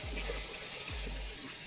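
Water is poured into a pot of cooked white lobia beans, a brief, steady, fairly quiet splashing stream with no voices.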